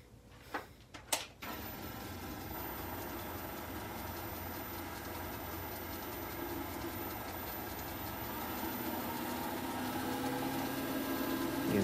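A polishing machine buffs with new polishing paste, humming in a steady, close drone after a few brief knocks at the start, and the pitch and loudness creep upward as the speed rises.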